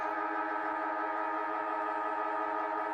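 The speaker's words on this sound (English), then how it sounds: "And that's the siren there to end the first quarter." A steady siren sounds to end the first quarter of an NTFL men's Premier League Australian rules football match, Nightcliff versus Darwin Buffaloes, holding one continuous tone at moderate distance from start to end with no talk.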